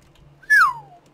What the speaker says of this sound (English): that whistle is probably very loud in the mic